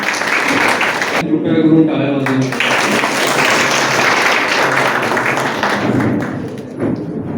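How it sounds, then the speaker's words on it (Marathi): Audience at a felicitation ceremony for students and parents breaks into loud, sustained applause, a dense wash of clapping that holds steady for several seconds, with a brief voice heard near the start. "कृपया करून टाळ्या वाजवा"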